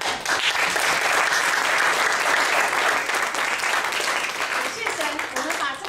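A church congregation applauding at a Saturday worship service after a testimony, a full sustained burst of clapping from many hands in a hall that gradually tapers off.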